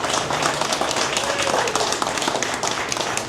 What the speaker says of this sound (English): Give Terry a hand of applause,